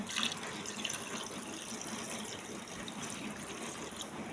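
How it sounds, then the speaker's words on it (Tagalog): Water poured into a pan of cooking bangus fish, a soft continuous trickling splash, faint and close, with no voices. "Lagyan natin ng water."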